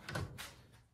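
A drawer on a Seville UltraHD Classic 8 drawer unit (UHD20249ES) is handled, giving a close, brief sliding bump and rumble followed by a softer scrape, with no talk.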